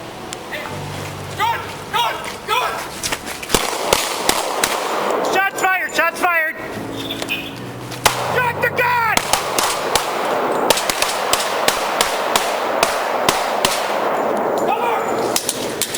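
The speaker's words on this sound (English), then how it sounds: "shots fired" Gunshots fired at police officers, several sharp loud bangs scattered through a chaotic scene, mixed with shouting voices, radio chatter and a wailing siren.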